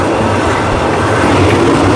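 Passenger train number 255 on the Thonburi–Lang Suan line, travelling out of Chumphon, rumbles steadily along the rails with a loud, continuous roar and clatter, heard up close from on board with no talking.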